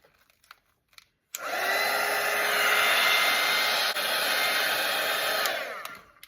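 A hair dryer blows steadily on watercolour paint for a portrait, switching on after a moment of quiet and running loud and continuous for several seconds before cutting off.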